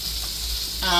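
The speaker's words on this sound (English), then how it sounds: "we're going to add the cabbage to the pan as mentioned" Cabbage hitting a hot pan already holding seasoned sausage, a brief steady sizzle that swells louder at the end.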